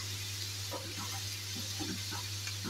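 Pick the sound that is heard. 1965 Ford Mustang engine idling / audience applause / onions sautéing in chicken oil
onions sautéing in chicken oil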